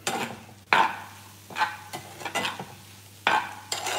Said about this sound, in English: All right, I'm gonna stir that together.